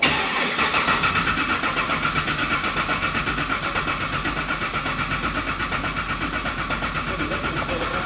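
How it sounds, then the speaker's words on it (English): Modified car engine cranking steadily during a flood clear with brake and gas held down, a rapid even rhythmic churn that stays loud and close for the whole stretch with no voices. "we're gonna do a flood clear, which is being on the brake and the gas at the same time."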